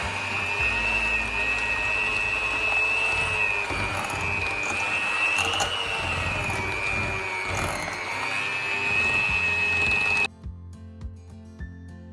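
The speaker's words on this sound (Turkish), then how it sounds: "Bembeyaz olana kadar çırpacağım." An electric mixer whirs steadily and continuously whisking cream for profiteroles until white, a high-pitched motor drone with slight shifts as it works, then cuts off near the end.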